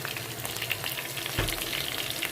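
Onion sizzling and frying in a pan, a steady, close crackle with a brief stir or spatter partway through, no talking.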